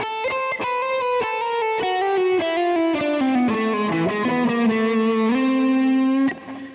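An electric guitar plays a chromatic lick of fast legato notes and triplets with enclosures and neighbor tones, the line descending and ending on a sustained note that cuts off.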